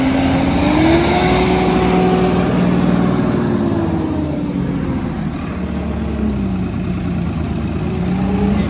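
A Swaraj 969 FE CRDi 4x4 tractor engine running at full throttle, a steady loud diesel drone with a faint wavering whine, held nearly constant throughout.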